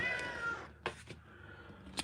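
A cat's meow trails off at the start, then a few short soft sounds follow in an otherwise quiet room.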